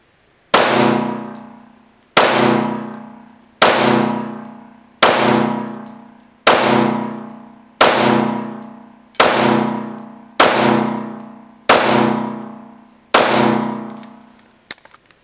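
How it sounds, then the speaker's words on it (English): Nine evenly spaced, loud ringing clangs from 9mm rounds fired by a Springfield Armory Echelon pistol striking steel targets, each impact ringing out and decaying before the next, with no talk. "For my first time shooting it, I'm really happy."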